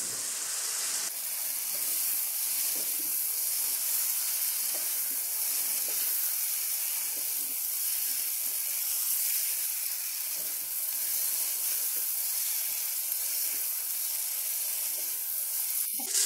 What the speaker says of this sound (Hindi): अब हम इसमें डालेंगे बेबी पोटैटो जो हमने पहले ही बॉईल करके रख लिए थे।